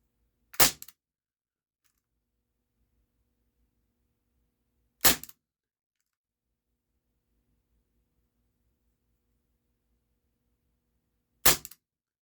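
A Walther P38 4.5mm BB pistol fires three sharp, isolated cracks, spaced several seconds apart, loud and close against near silence.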